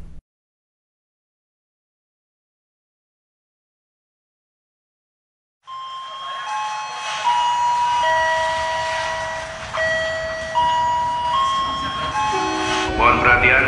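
A train sound effect in a radio advert for a headache remedy: after silence, a rumbling train with horn tones and clacking enters and plays under continuous spoken announcement.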